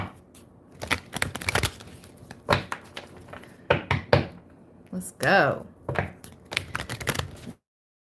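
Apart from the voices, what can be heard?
shuffling a deck of cards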